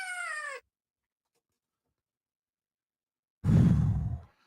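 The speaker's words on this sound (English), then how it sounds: "No, it's a tiger growl." Growl sound effect played on a live radio show, a short tonal cat-like cry, then a few seconds of silence and a rough, low growling burst lasting about a second, with no talk over it.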